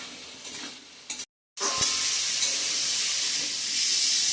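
Spices and a fish curry base fry in a pan with a loud, steady sizzle and hiss, briefly cutting out to silence before resuming with a stir.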